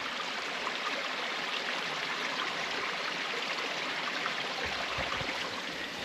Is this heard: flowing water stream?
yes